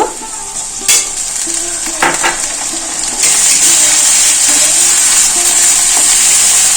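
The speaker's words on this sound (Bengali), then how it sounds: "আদাটা একটু ভেজে নেবো" Ginger paste and onions fry in a pan for pulao: a steady hiss that grows louder partway through, with a few sharp knocks and scrapes of a stirring spoon and no talking.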